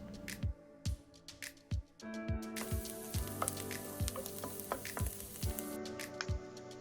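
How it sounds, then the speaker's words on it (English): Diced onion hits medium-high heated olive oil in a pan, a faint steady sizzle punctuated by a regular series of sharp clicks or taps roughly every half second, close and quiet, with no one speaking. "In a medium-high heat temperature, let's add 1 tablespoon of olive oil, followed by 1/2 cup of diced onion."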